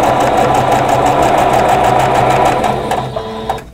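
A sewing machine chain-stitching batik and muslin quilt pieces one after another, running loud and steady with a fast rhythmic needle chatter close by, then slowing and stopping near the end.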